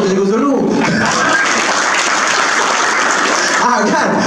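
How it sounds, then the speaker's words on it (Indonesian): Audience applause at a lecture-style talk, a loud, dense, continuous burst of clapping heard close, with voices faintly mixed underneath. "Tepuk tu Cikgu Zul dulu."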